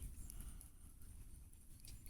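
A horse walking with hooves clip-clopping, faint and intermittent against outdoor background noise, with no talking.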